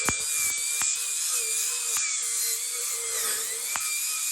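A handheld grinder whines steadily at high pitch as it grinds number 2 scrap copper, with a few sharp clicks and ticks cutting through the constant drone.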